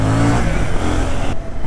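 KTM Duke 790 motorcycle accelerating hard to overtake on the street, a loud, close engine roar with rising revs and dense wind rush, continuous throughout and ending in a sudden drop in the high hiss.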